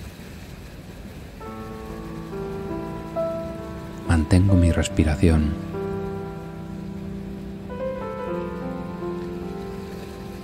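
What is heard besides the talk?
ocean waves sound in a meditation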